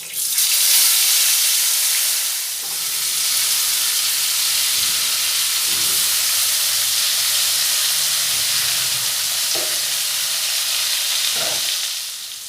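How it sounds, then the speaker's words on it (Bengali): Large cut, washed potato pieces hit hot oil with a loud, rushing hiss that settles into a steady frying sizzle, with faint clinks of a utensil scattered throughout and no one speaking. "এবারে গরম তেলে দিয়ে দেব।"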